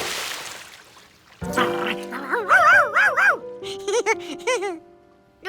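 A cartoon dog from Curious George barks and yips in quick bursts, loud, close and sing-song with whiny rising and falling tones, after a brief swishing noise at the start.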